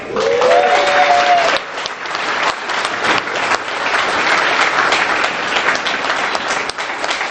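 Loud, sustained applause from a crowd at a mayor's fluke fishing tournament press conference, with a brief whistle at the start and clapping continuing steadily throughout.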